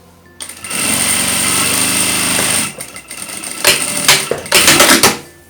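Domestic sewing machine with a standard presser foot instead of a zipper foot, stitching a zipper onto fabric for a Bible or planner cover: a steady mechanical run of about two seconds, then short bursts of stitching, fairly close.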